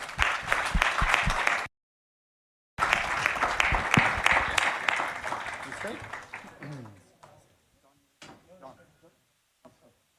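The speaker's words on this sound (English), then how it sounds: "Please join me in giving him a big round of applause." Audience applause at a leadership summit in New Delhi: loud dense clapping, a brief cut to silence, then renewed clapping that thins into scattered claps and fades out.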